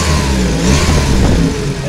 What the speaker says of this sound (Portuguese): Acelera o carro, né?